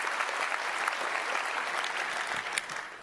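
A keynote audience at an open-source technology conference claps steadily and loudly for about three seconds, a dense continuous wash of applause that tapers slightly at the end.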